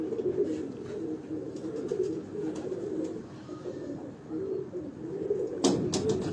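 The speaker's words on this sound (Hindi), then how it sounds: "अच्छा, एक ना पकड़े जरा कबूतर को।" Pigeons on a Lahore rooftop coo in low, continuous, overlapping rolls at close range, with a brief burst of wing flapping near the end.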